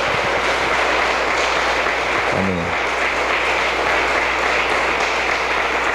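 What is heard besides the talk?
congregation applauding in church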